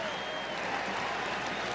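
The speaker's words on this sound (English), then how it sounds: "Hey, listen to the crowd." Nebraska football stadium crowd at a home game against Northwestern, a steady wash of cheering and applause from a large distant audience, filling the moment evenly with no single voice standing out.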